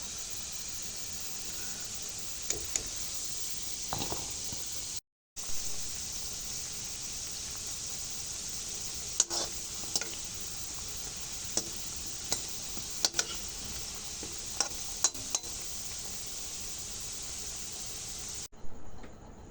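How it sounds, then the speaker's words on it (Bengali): Pitha cakes fry in hot oil for a long stretch, a constant soft sizzle with scattered sharp ticks and taps from the utensil and a short drop to silence partway through. "এভাবে সব পিঠাগুলো আমি ভেজে নেব।"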